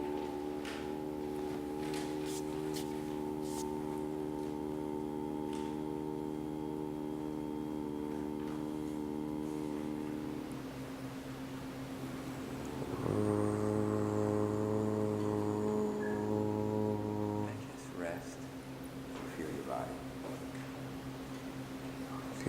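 A voice imitates a harbor foghorn, holding long, low, steady droning tones, then one deeper blast, all alone and fairly quiet.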